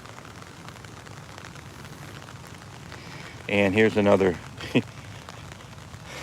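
Rain falling steadily on a home garden, an even, close hiss of drops on plants and surfaces, with someone speaking briefly partway through.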